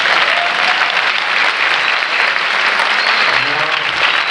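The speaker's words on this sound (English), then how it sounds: "And round of applause again" Loud, sustained audience applause during a presentation, thick even clapping from a sizable crowd holding steady throughout with a brief murmur of voices near the end.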